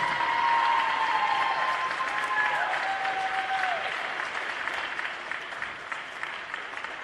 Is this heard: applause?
yes